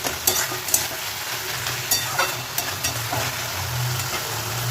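Curry sizzling and frying in a pan on the stove, a steady hiss with occasional stirring scrapes and clinks, close and fairly loud with no talking.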